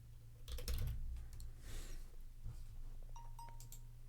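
Typing on a computer keyboard while working in After Effects: a quick burst of close key clicks, then scattered single taps, one or two with a faint ringing tone, and no one talking.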